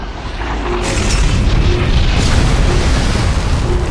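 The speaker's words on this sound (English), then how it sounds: "At the end where the hero walks away from a giant explosion." A giant explosion in a video game scene rumbles as a loud, sustained roar of blast and debris that fills the whole moment without letting up.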